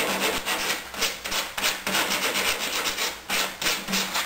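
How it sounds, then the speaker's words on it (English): Rhythmic back-and-forth final sanding on a wooden aircraft rudder part, steady rasping strokes roughly every half second, close and fairly loud, with no voices. "do a little bit of final sanding."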